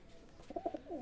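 Soft pigeon coos, a few short low hoots in quick succession, fairly faint against a quiet background.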